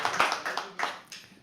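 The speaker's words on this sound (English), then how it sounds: "You have to keep clapping till the person comes, okay?" Audience applause at a live poetry open mic at The Habitat, a few bursts of hand clapping rising and fading in waves, moderately close and loud with no talk over it.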